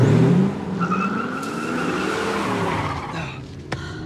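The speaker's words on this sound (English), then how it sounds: "Michael, will you slow this absurd red car down and keep your eyes on the road?" A red Ford Mustang skids hard, its tires squealing loudly at first before the noise eases into a wavering screech and engine hum, ending with a sharp knock.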